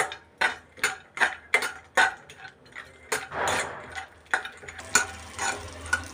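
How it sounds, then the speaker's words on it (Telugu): Dry fruits frying in ghee on a high flame for rava ladoo, with a spoon stirring the pan: sharp clinks against the metal repeat about every half second over a soft, steady sizzle. No one speaks. "నెయ్యి వేసి డ్రై ఫ్రూట్స్ వేయించుకోవాలి"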